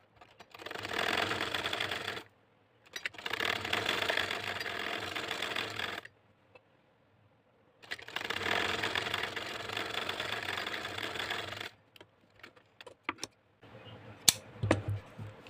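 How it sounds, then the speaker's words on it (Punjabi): A sewing machine stitching fine lace onto a sleeve runs in long steady whirring bursts of a few seconds each, separated by quiet pauses, followed by scattered clicks and handling noises. "ਇਸ ਤਰ੍ਹਾਂ ਲੈਸ ਰੱਖ ਕੇ ਅਸੀਂ ਸਿਲਾਈ ਲਗਾਵਾਂਗੇ"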